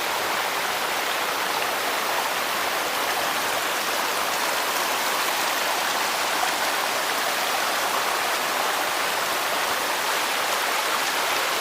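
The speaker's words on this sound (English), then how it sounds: "Stand in the middle of this creek crossing here." A boulder-strewn creek at a hiking crossing in Shenandoah's Nicholson Hollow rushes steadily, producing a dense, even hiss of flowing water that stays constant throughout.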